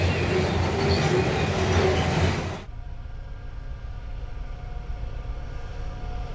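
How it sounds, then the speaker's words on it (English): A Hunter Valley coal train rolls past near Whittingham, loud rumbling and rattling wagons that suddenly drop to a quieter, lower rumble as the consist moves on. "Hunter Valley Coal Trains"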